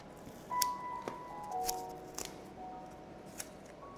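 Masking tape pulled and pressed onto an oil painting of a rocky Oregon coast scene, a few sharp tearing and crinkling ticks, close and faint against quiet room tone.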